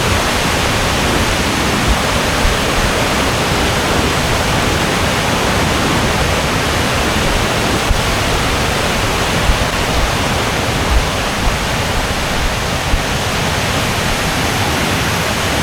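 A waterfall at Chamadka near Sullia roars with fast-flowing water, a loud, dense and unbroken rush that fills the whole stretch with no talk.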